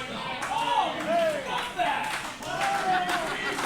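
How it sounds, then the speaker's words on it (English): Crowd at an independent wrestling show cheering and clapping for a wrestler's entrance, a steady wash of applause and shouts with a commentator talking over it. "listen to this crowd come alive for the Party Peacock, that charismatic milkshake"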